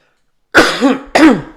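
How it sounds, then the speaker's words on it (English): Two sharp, loud coughs close up from a person with asthma, the first with a throaty rasp, separated by a short pause. "I'm coughing again because I have asthma"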